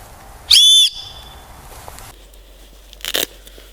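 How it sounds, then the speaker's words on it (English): A jet stream whistle on outdoor clothing gives one short, loud, piercing blast, followed by a quieter moment and some faint handling crackle. "We have a jet stream whistle"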